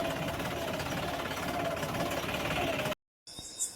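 A new Vishwakarma threshing machine engine threshing soybeans runs loud and steady with a droning rumble, then cuts off abruptly, leaving a short silence and some faint background noise.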